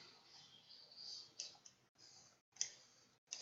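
Several sharp computer mouse clicks, some in quick pairs, stand out over a faint background hiss during a copy-and-paste editing session; close and crisp, with no talking.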